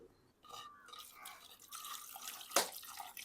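Cut conch meat is rinsed in water in a village kitchen, giving soft splashing and sloshing with a brief louder splash near the end, close and fairly quiet.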